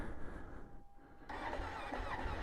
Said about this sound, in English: it's a nice cold start